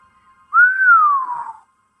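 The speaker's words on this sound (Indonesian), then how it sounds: "Yang diserang bersiul." A single clear whistle rises briefly and then slides down in pitch, lasting about a second, close and alone in silence.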